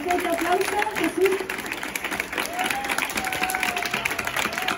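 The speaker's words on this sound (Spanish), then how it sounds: "Pues vamos a darle un fuerte aplauso por acordarse de nosotros y por venir a estar este ratito con nosotros" Applause from a school audience of children at a flamenco event, a lively patter of many hands clapping with some cheering, mixed with voices chattering and calling throughout.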